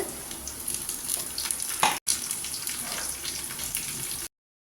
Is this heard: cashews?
yes